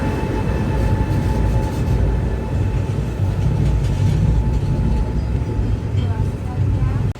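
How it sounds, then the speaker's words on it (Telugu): A goods train rolls past alongside a halted passenger train on the Visakhapatnam to Prayagraj weekly special, a continuous close rumble and rattle holding steady throughout, with no talking. "గూడ్స్ బండి పక్కన."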